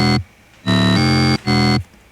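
Three bright, buzzy synthesizer notes from raw wavetables sound in turn, each held briefly and then cut off, dry and harsh with no effects.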